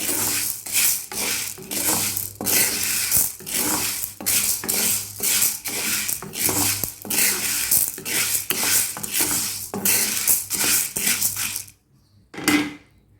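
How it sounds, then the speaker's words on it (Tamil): Green gram (moong) dry roasting in a pan without oil over a low flame gives repeated, close scraping and rattling strokes of a spoon stirring the grains, then stops, followed by one last scrape. "அதனால் சிம்மிலே வச்சு வறுத்து எடுத்துக்கலாம் எண்ணெய் எதுவும் ஊற்ற வேண்டாம் ட்ரை ரோஸ்டே பண்ணிக்கோங்க"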